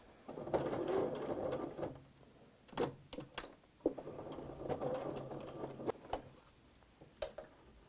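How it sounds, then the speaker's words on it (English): A sewing machine stitching a fabric placemat runs in short bursts of rapid, buzzing clatter separated by brief pauses and clicks, close by and fairly quiet, with no talking. "When you get back to where you started, do another little back stitch."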